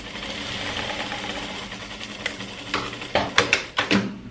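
A straight-stitch sewing machine runs a seam on a dress with a steady mechanical whir, then slows into a few separate loud clunks near the end.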